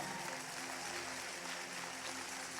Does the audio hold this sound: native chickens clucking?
no